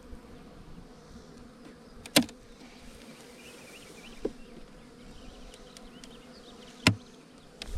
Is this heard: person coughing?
no